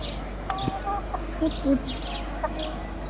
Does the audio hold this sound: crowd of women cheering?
no